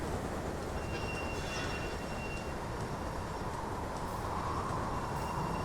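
A steam locomotive in the Railway Empire video game rolls along the railroad: a steady, fairly quiet rumble of wheels and track noise with faint high squeals, no voices.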